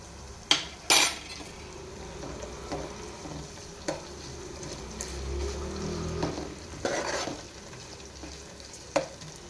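Ginger garlic paste sizzles and fries in a pan while a spoon stirs it, with sharp clinks and scrapes of metal against the pan over a steady low hiss.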